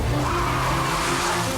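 A car skidding on an ice driving course, a loud close rush of engine and sliding tyre noise with a wavering tonal whine, short and without talk.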